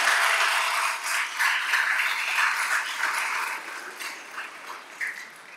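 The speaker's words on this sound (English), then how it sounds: "So please give my fantastic wife a round of applause for voting for me." A crowd applauds at a city council swearing-in ceremony, a soft, even wash of clapping heard from a distance that slowly tapers off.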